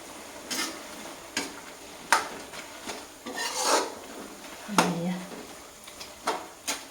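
Grated pumpkin stirred and fried in a pan, a spatula scraping and rasping against the metal in irregular strokes with a soft sizzle underneath, close and moderately quiet.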